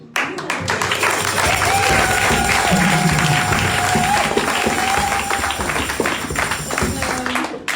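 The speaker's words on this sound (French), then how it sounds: "Donc on peut aussi vous applaudir à eux" Church congregation at a Sunday service applauding their pastors, a dense wash of clapping filling the room for several seconds, with a sustained tone and murmured voices underneath.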